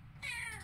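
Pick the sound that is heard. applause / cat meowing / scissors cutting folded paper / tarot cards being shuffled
cat meowing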